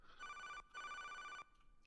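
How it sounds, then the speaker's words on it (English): A composed phone ring made for a game gives two electronic trills in a row, each with a steady bright tone, then cuts off cleanly, fairly faint. "he made a great phone sound that he cooked up"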